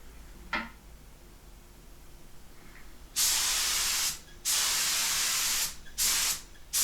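Lacquer finish coats are sprayed onto a guitar neck in three loud sustained hissing bursts, each about a second long with short gaps, after a quiet stretch broken by a faint click.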